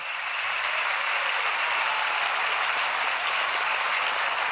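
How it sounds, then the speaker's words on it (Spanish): Sustained applause from a crowd at a swearing-in ceremony for the governors of Portuguesa and Bolívar, a dense, even wash of clapping that stays loud and steady throughout with no voices above it. "Para ustedes un gran aplauso."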